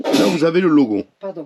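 A single sharp sneeze bursts out mid-sentence from someone talking in a camping-car, her speech continuing before and after it, with an apology following.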